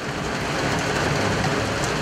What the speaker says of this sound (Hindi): गुजरात में भी वक्फे से तेज बारिशों का सिलसिला जारी रहा।